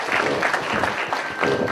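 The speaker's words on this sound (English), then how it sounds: "give yourself a round of applause" Audience at a museum event applauding, a short burst of dense clapping with faint crowd murmur under it.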